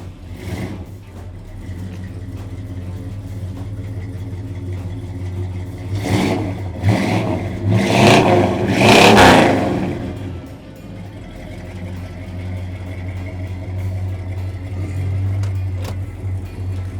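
A 1969 Plymouth Roadrunner engine starts and settles into a low idle, then revs hard in a few rising bursts before dropping back to a steady rumbling idle, near and loud.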